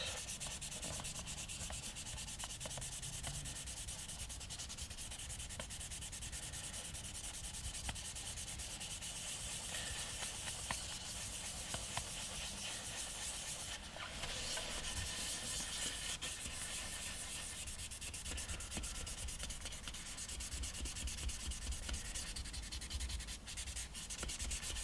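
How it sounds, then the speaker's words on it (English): Fine 1500-grit sandpaper rubbed across the finish of a relic Fender Stratocaster, a steady, close, continuous hissing scrape with no pauses and no voices. "it's really not taking any effort to sand this down"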